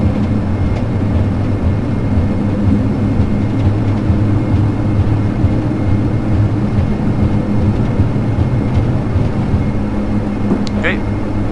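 An airliner accelerates down the runway on its takeoff roll in the FSX flight simulator, with a steady, loud engine roar holding constant and a brief faint chirp near the end.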